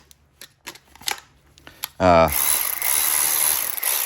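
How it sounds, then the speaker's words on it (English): A Milwaukee M12 Fuel electric ratchet is handled with a few sharp clicks, then its motor spins up into a steady, loud, close mechanical whir that runs to the end. "version of the electric ratchet, and that's the fuel version"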